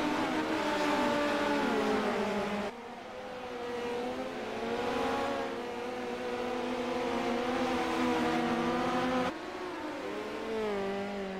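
ARDC midget race cars race at Knoxville Speedway with several engines close together, a dense, loud, high-pitched howl rising and falling as the cars fight for position.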